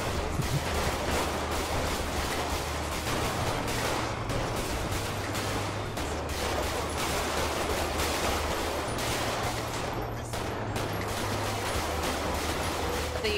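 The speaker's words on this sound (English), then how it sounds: "Who's shooting?" Sustained gunfire in the GTA 5 roleplay video game, a dense continuous crackle of rapid shots and bursts with low rumbling underneath, steady throughout and without talk.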